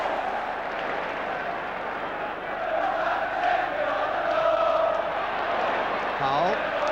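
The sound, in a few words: crowd applauding football players after a goal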